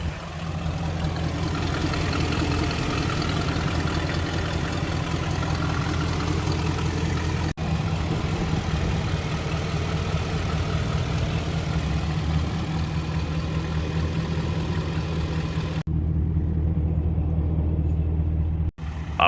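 A BMW E39 540i with an exhaust leak idles close by, a steady, even low rumble that runs continuously with no talking.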